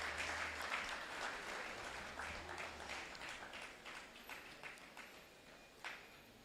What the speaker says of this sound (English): Can we please give him also a round of applause as he climbs up?